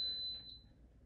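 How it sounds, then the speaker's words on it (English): A slow cooker gives a high, steady electronic beep tone, then one brief fainter blip as it starts, close by in a quiet room. "So the three beeps means that it's starting."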